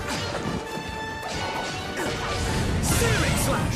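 A Searing Slash sword attack in a Dragon Quest video game lands as a dense run of sharp crashing, slicing impacts over a busy, continuous rush of battle noise, loud and close throughout.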